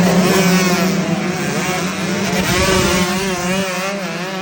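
Dirt bike engines roar together at a dead engine race start in Ridgecrest, California, a loud, dense wall of revving motors with rising and falling pitch and no talking.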